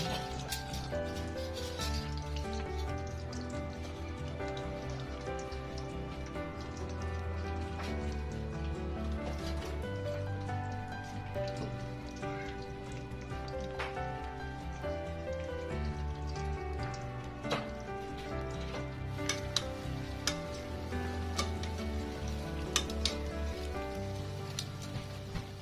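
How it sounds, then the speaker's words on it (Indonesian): Split pempek fish cakes frying in hot oil, a dense, continuous crackling sizzle with scattered pops, steady throughout under a faint background tone. "Selanjutnya pempek belahnya kita goreng di minyak yang panas."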